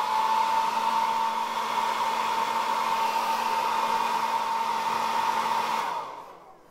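A hair dryer heats action figure parts with a steady, close whirring blow and a constant hum, then it shuts off and spins down near the end.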